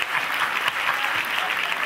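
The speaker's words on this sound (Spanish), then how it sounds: "Fuerte el aplauso para la chica que le gusta que le haga la cola." A comedy show audience breaks into loud, steady applause for a girl, with a dense wash of clapping held at even strength throughout, no voices on top.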